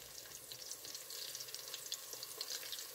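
Sliced fresh garlic and onion fry in olive oil for chicken adobo, a quiet, continuous hiss and crackle with faint stirring throughout.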